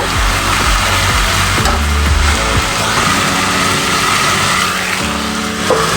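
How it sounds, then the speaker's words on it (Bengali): Gathi kochu curry with raw turmeric sizzles steadily in a pan as it is stir-fried, with scraping stirs of a spatula heard close and continuous throughout. "খুব ভালো করে আমি কষিয়ে নেব"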